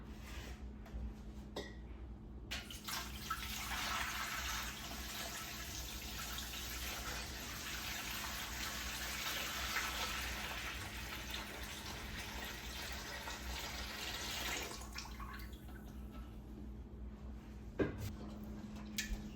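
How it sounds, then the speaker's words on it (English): Tap water runs steadily into a canner for about twelve seconds, a close, broad rushing hiss that stops abruptly, followed by quiet room sounds and a brief clunk. "So I'm gonna go ahead and fill up the canner now."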